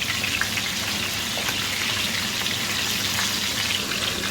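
Chicken searing in a Fissler Original Profi sauté pan (rondeau) with the heat just turned off, giving a loud, dense, continuous sizzle like rain hiss that holds steady throughout, with no voices.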